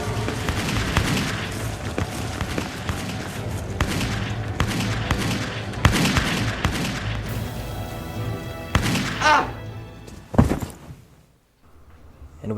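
Battle sound design of a musket volley fusillade in the War of Knives, dense overlapping gunshots and booming thuds rolling continuously, then a few final loud shots before fading to near silence.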